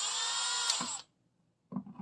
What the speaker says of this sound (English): Now we take our basic old drill